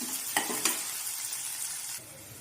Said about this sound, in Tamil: வெங்காயம் பார்த்தீங்கன்னா ஓரளவு கோல்டன் ப்ரௌன் ஆகிற ஆகிற ஸ்டேஜ் வரைக்கும் நல்லா வதங்கட்டும்